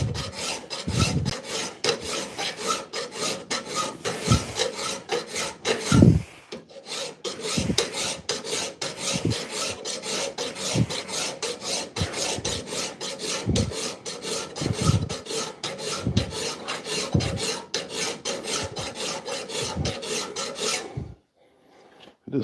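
A dagger blade is filed and scraped by hand, making a long run of steady, rhythmic rasping strokes, close and fairly loud, with a brief pause near the middle before it stops abruptly near the end.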